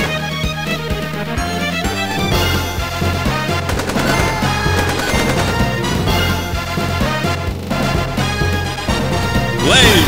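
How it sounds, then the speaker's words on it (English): Rapid heavy machine gun bursts from a Lego Metal Slug game setup ring out loud and close, rattling almost continuously over busy game music and effects for the full stretch. "Heavy machine gun!"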